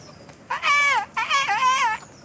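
A voice imitates birdsong in two warbling, wavering whistled phrases, like a chirping tune, spoken by a character in the video game Kingdom Come.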